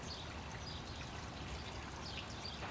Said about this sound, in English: he came to a small bridge with a bubbling stream underneath.